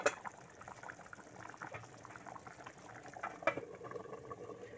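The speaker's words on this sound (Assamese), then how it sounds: "আৰু 5 মিনিটমান উতলি গ'লে হৈ যাব তাৰপিছত তৰকাৰীখিনি" Fish curry with coriander leaves bubbling in a pot on a home stove, a soft, steady simmer with small pops and gurgles, faint and close.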